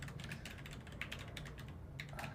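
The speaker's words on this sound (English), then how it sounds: "while I'm typing" Quiet, rapid tapping of a computer keyboard, bursts of keystrokes clustering and pausing irregularly, close to the microphone with no talking.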